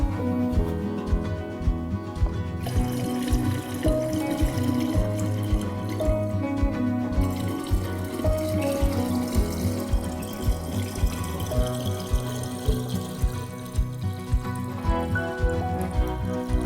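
Soft water is poured into alcohol while making moonshine, a continuous liquid fill with drips and trickling, close and steady throughout, under a layered tonal background and with no talk.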